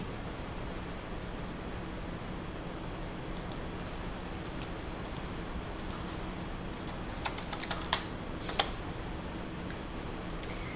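A username and password are typed on a computer keyboard, heard as a few sparse, faint key clicks over steady background hiss, with a short cluster of taps near the end.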